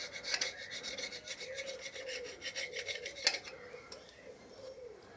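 A tungsten carbide scraper rasps against a gasket face on a 2014 Harley-Davidson Electra Glide engine, a series of quiet, rhythmic scraping strokes with a few sharper scratches.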